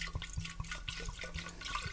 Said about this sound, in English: I would love to decant it first